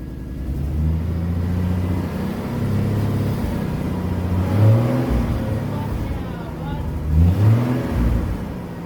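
A carbureted Ford car engine runs steadily at low idle, with a couple of brief revs swelling louder before settling back to a smooth rumble.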